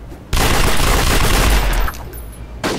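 Rapid gunfire from the City of Heroes video game bursts out loud and dense for about a second and a half, then eases briefly before a fresh volley starts.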